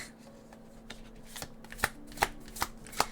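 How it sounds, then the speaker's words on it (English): A tarot deck being shuffled by hand, soft riffling and sliding of cards with several sharper card slaps near the end, close and quiet with no talking. "it's hard for me to speak and shuffle at the same time like I'm used to"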